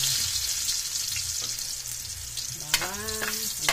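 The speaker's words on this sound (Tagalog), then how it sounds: "Gisa ko na guys ang bawang" Garlic sautéing in a hot pan, a soft continuous hiss of frying oil, fairly quiet and close, with a brief clink and a faint tonal squeak near the end.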